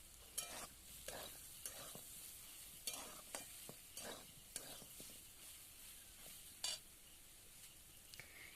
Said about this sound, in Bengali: এই সয়াবিনটা একটু নাড়াচাড়া করে একসঙ্গে আর একবার একটু নাড়াচাড়া করে নিয়ে